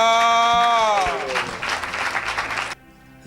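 A church congregation applauds at a worship service: dense, loud clapping that swells under a preacher's sustained voice, then cuts off abruptly, leaving a quieter tail.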